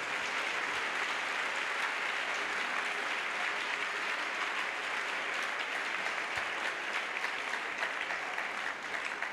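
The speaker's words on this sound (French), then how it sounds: "Much louder, clap, clap, clap." A large audience at an evangelism crusade claps steadily and loudly, a dense continuous wash of applause that never lets up.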